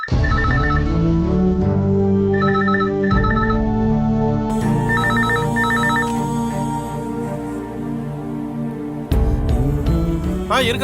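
A telephone rings in repeated short double bursts over a loud, steady music score, the rings recurring several times through the scene without any speech.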